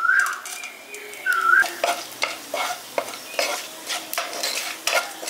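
A bay leaf, cumin seeds and whole garam masala spices hit hot oil in a village-style kitchen, crackling and sizzling loudly up close while a utensil stirs and scrapes the pan in regular strokes; no talking.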